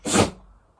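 A single short, sharp sneeze bursts out close by and fades quickly into near silence.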